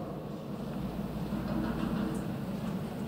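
Train running in the video game The Raven Remastered, a steady low rumble of rolling wheels on rails with faint rhythmic clacks, moderately loud and continuous.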